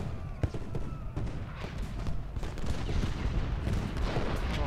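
Musket volley fire in Ultimate General: Gettysburg, a loud rolling fusillade of many overlapping shots, sharp cracks at first and then a dense sustained rumble of distant gunfire.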